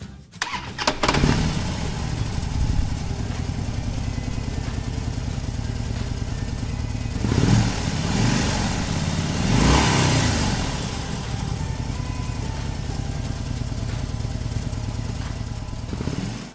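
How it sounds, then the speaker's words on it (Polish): A toy motorcycle's engine sound effect starts with a sharp burst, then settles into a steady, loud buzzing drone with two brief revving swells, close and alone. "Pojedziemy na motocyklu?"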